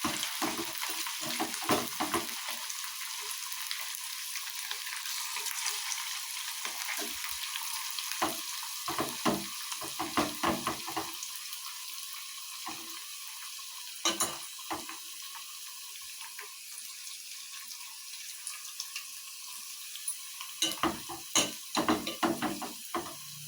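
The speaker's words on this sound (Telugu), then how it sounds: "ఇప్పుడు చికెన్ పకోడీ బాగా ఫ్రై అయింది కదా" Chicken pakoda deep-frying in hot oil, a steady crackling sizzle with bursts of bubbling and occasional stirring or water sounds, close and moderately loud throughout.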